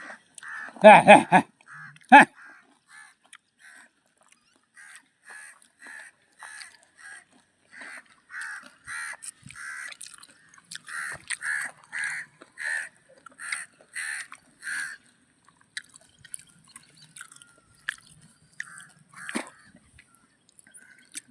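Crows caw repeatedly in a forest, a loud burst of harsh calls near the start followed by a long series of fainter, rhythmic caws from a distance, with quiet stretches between.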